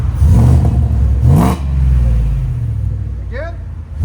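A supercharged Ford F-150 with a 5.0L V8 and a specially made muffler revs up, a deep engine roar that swells, dips, and settles to a rumble, with a voice speaking briefly over it.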